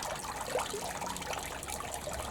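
Water flushing out of the bottom and telltale of a boat outboard engine, a steady broadband trickling and gushing stream that runs continuously and close by with no talk.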